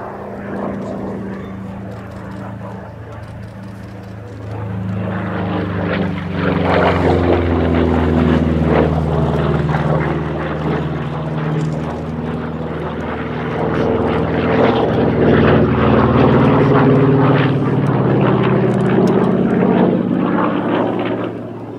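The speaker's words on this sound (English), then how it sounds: "Final run-in, I think, for the P-47," A Republic P-47D Thunderbolt propeller fighter makes a loud pass from right to left at a military airshow, its big radial engine droning steadily and swelling as it nears, with a voice faintly under it.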